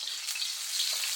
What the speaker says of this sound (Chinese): 另起锅，油热之后下入蒜子，